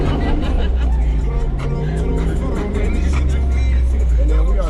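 An off-road vehicle pulls away on an indoor demonstration course at the New York International Auto Show, a steady low engine drone with babbling crowd noise around it.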